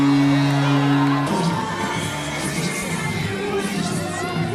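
Crowd in the stands cheering at a women's NCAA lacrosse tournament quarterfinal, Northwestern against Penn: a steady, roaring wash of shouts and whoops from a large crowd, after a brief held tone at the start.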